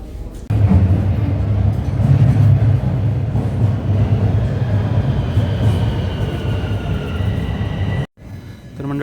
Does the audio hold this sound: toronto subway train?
yes